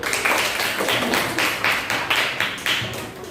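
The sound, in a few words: classroom applause for a student group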